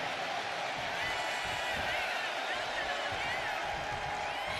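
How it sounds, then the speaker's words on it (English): Arena crowd cheering in a WWE 2K wrestling video game match, a steady dense roar of voices held at an even level throughout, with commentary talk over it. "You hear the crowd, they're on Maxwell's side"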